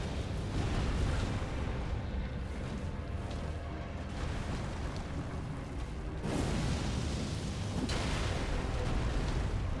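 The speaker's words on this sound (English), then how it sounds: "I guess I should go with the explosion." An explosion spell in the video game Elden Ring goes off with loud, rumbling blasts and a sharp burst near the six-second mark, layered over continuous dense game noise.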